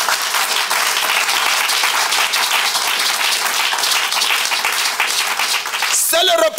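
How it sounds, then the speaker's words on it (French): A church congregation applauds and cheers in a steady, dense wash of clapping that runs throughout, loud and continuous, with a voice briefly rising near the end. "Acclamez un peu pour Jésus"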